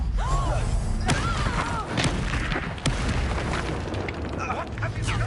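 A Confringo fire spell exploding in a spellcasting video game, with booming blasts and sharp cracks amid rumbling battle noise, while game voices speak over the action.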